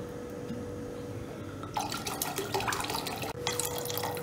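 White wine pours into a pork marinade for an Indonesian babi panggang, a close liquid splashing and trickling that grows louder midway, with a brief dip near the end.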